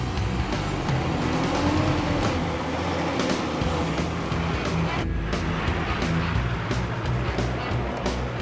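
An older Nissan Patrol 4x4 without a differential lock grinds over an off-road obstacle at a club challenge, its engine note loud and steady under broad rumbling and mechanical clatter throughout.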